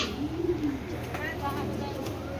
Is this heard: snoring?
no